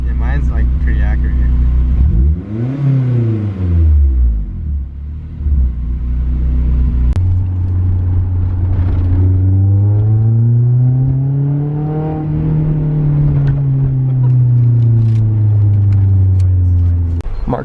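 A Honda S2000 engine revs hard while being driven, rising and falling in pitch through several strong pulls, loud and close, with voices talking over it at times.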